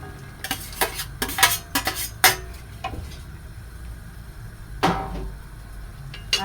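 Sayote being stirred in a pan with a metal utensil, a series of clinks and scrapes clustered early, then quieter sizzling and one more scrape toward the end.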